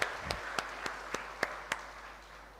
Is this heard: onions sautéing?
no